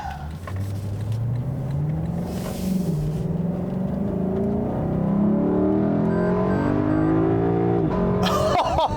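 A 2018 Lexus LC500 with a V8 engine drives off, its engine note rising steadily as it pulls away, loud and close from inside the car, with a brief voice near the end.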